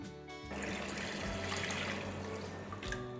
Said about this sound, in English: Time to add 4 cups of water.